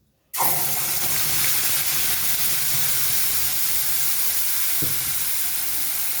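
Ground onion, garlic and ginger paste dropped into hot oil with bay leaf and garam masala, bursting into a loud, sudden sizzle that holds as a steady hiss, with a brief clink partway through.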